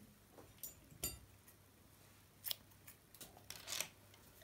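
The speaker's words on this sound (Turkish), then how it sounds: "buradan dikmek için bir miktar ip ayırıp ipi kesiyorum" Scissors snip through knitting yarn at a child's vest project, giving a few quiet, crisp cuts spaced over several seconds against a faint low background hum.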